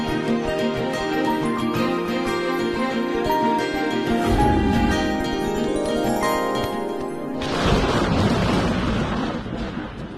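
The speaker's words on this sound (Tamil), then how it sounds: "பவி, மின்னல் அடிக்குது. மழை வரப்போகுதுன்னு நினைக்கிறேன்." Thunder from lightning ahead of approaching rain rumbles and rolls in a long, loud, continuous wash, swelling into a harsher crackling surge near the end.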